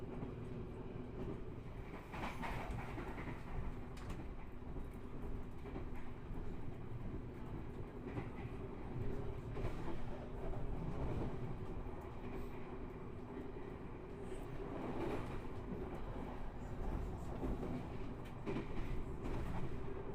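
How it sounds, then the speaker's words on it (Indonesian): KA Blambangan Express passenger train running on rails at dusk beside the Java Sea, a steady rumble with faint repeated clicks over the track joints, heard continuously from close by. "KA Blambangan Express melintas langsung stasiun Wellery"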